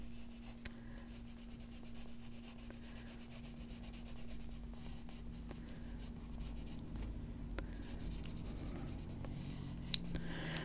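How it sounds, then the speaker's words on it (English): The side of a pencil lead rubs across paper in a steady, soft, continuous scratching shading sound, close and quiet, with a faint background hum. "I'm using the side of this pencil, not the tip, to do that."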